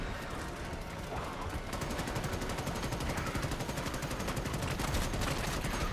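Rapid gunfire from the video game Starship Troopers: Extermination, dense sustained bursts of shots running continuously throughout, loud and close, with faint voice underneath.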